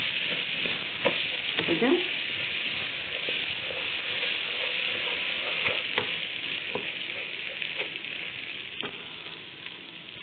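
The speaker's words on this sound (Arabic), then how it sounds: "اديله بقى تشويحه حلوه مع الشعريه كده، يفرفش كده وتغلفوه كله بالشعريه والسمنه" Rice and vermicelli stir-frying in ghee in a pot, a steady bright sizzle running throughout with scattered crackles and stirring scrapes, close and continuous, with a brief spoken word.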